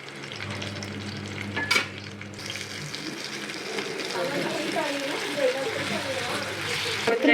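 Garlic and curry leaves fry in oil on an old dosa griddle, a continuous crackling sizzle with a sharp clatter near the start and scattered stirring scrapes. A voice talks over it.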